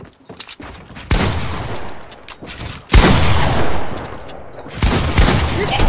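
Rapid bursts of gunfire in the video game Fortnite, loud and close, with dense repeated shots in several clusters and sharp onsets between them.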